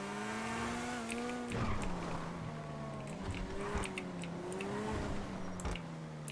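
A Vysser Neo sports car with a rear-mounted engine drives in GTA 5 Online, its steady engine tone rising and falling in pitch as it accelerates and shifts, with a few sharp clicks and knocks over the continuous hum.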